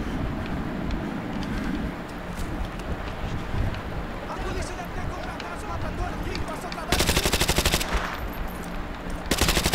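Rapid automatic gunfire from Call of Duty Modern Warfare 2 rattles throughout, with dense bursts and loud sharp volleys near the end, while a voice talks over the battle.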